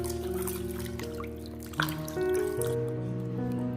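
Water drips and trickles as washed lamb drains, with short bright drops over a steady, close liquid tone and a sharper splash partway through.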